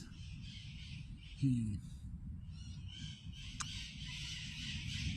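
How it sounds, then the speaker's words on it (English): Wild parrots in T.Y. Park give a short squawk or two partway through, fairly faint behind someone talking over steady outdoor background noise. "These are wild parrots here in this park, T.Y. Park."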